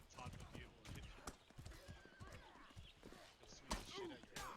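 Horse hooves clip-clop in the Medieval War Simulator video game, rhythmic and close, with a whinny near the end, while several people talk over the sound.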